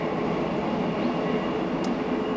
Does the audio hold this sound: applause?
no